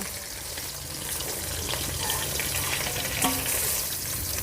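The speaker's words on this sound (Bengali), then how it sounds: "মাছ ভাজা হয়ে গেছে এবার তুলে নেব" Continuous hiss and spatter of hilsa fish frying in oil, close and fairly even, with faint clinks in the background.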